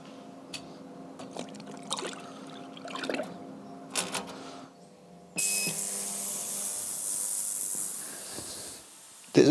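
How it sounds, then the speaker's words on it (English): Ultrasonic cleaning bath switches on with an MGB GT carburetor submerged in detergent, a sudden steady bright hiss that holds for several seconds after some clinking and handling sounds, close and loud with no talk. "it's time to put it in the ultrasonic bath"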